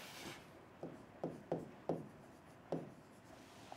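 A pen scratches points onto a sheet of paper in short, close strokes, about six distinct scrapes with brief pauses between them, quiet and with no talking.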